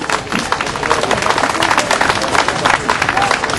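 An audience applauds performers after a stage-combat show with padded costumes and cane blows, a dense, steady wash of clapping and crowd noise at fairly close range, continuous throughout with no pauses.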